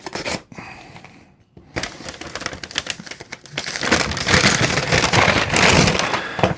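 Scratchy, crackling knife strokes slicing and tearing through a cardboard box, close and careful, with a brief pause early on, then denser, louder cutting toward the end.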